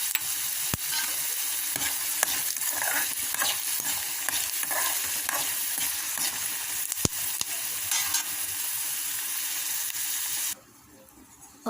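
Tempering seeds and peanuts sizzle and crackle in hot oil for tamarind pulihora, a steady frying hiss with occasional sharp pops and stirring clinks, cutting off abruptly near the end.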